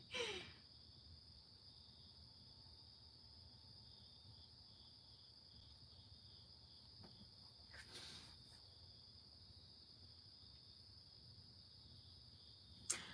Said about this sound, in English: if I'm trying to sleep and I hear the crickets, it bothers the heck out of me.